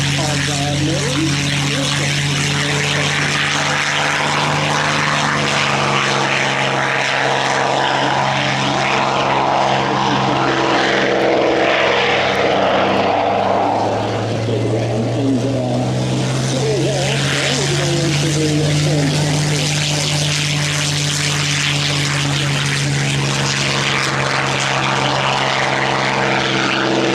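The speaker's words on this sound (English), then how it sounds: "So you are going to hear the wonderful, unmistakable sound of Merlin." Rolls-Royce Merlin engines of a P-51 Mustang and a Supermarine Spitfire at the 2025 Avalon air show, a loud, steady propeller drone with a slow rise in pitch, continuous for the whole stretch as a commentator talks over it.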